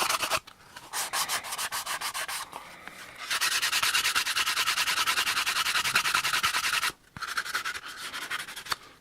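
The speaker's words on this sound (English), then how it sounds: "I'll just take sanding block and make sure I get all the rough edges" Close, steady back-and-forth sanding strokes of a sanding block on the rough edges of a Kydex holster, rhythmic at first, then a long continuous scrubbing stretch broken by one brief pause.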